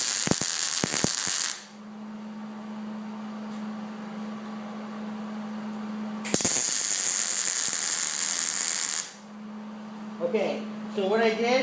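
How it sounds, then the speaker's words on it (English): A MIG welder lays tack welds in two separate bursts of loud, crackling, hissing arc noise, with a steady low machine hum between them and a brief voice near the end. "what I'm going to do now is just put those tack welds into place"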